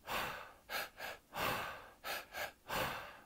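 Rhythmic breathwork: a double inhale into the belly then the chest, followed by a long release, repeated in close, audible bursts with no talking.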